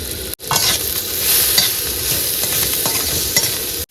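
Chopped onion, a little garlic, turmeric powder and salt frying together in a pan, giving a loud, continuous close-up sizzle with stirring and no voices.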